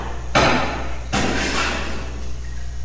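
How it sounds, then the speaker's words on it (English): Two heavy hammer blows strike a wall in the video game The Last Door, each a loud thud with a ringing tail, spaced under a second apart over a steady low hum. "Hammer the wall."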